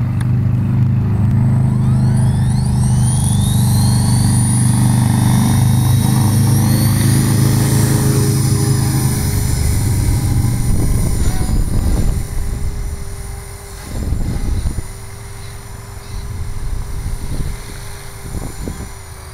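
A 450-size RC helicopter flying aerobatic manoeuvres, its loud steady rotor and motor whine filling most of the recording before dropping and surging as the flight changes.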